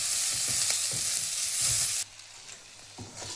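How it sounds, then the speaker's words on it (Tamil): Green chilies sautéing in a pan for pacha patani channa masala, with a loud hiss and stirring scrapes that drop abruptly to a quieter sizzle midway, close and with no talk. "பச்சை மிளகாய் இதில் போட்டு அப்படியே அதையும் சேர்த்து வதக்கணும்"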